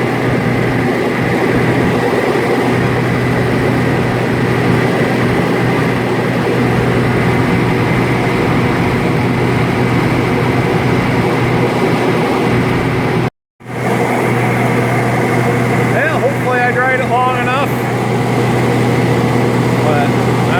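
Oliver tractor-powered grain dryer running steadily during a corn dry-down, a loud constant engine drone with a low hum, briefly cut out once, then resuming with faint squeaky mechanical sounds.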